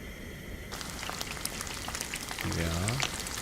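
Meat sizzles and crackles in a hot pan, a dense frying hiss that starts abruptly and stays loud, with a short tonal sound near the end.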